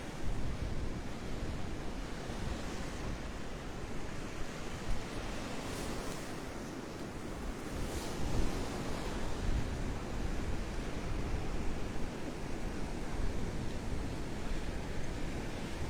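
Ocean surf washes steadily onto the beach at Delnor-Wiggins on a cold morning, a continuous broadband roar of breaking waves with some wind noise on the microphone, constant and fairly loud throughout.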